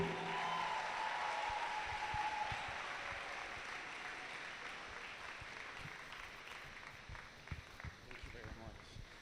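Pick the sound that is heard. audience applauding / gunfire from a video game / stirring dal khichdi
audience applauding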